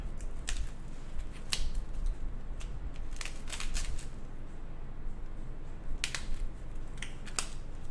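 Scissors snip through foam pool noodle pieces in a series of short, crisp crunchy cuts in irregular clusters, close and fairly quiet against a low room hum.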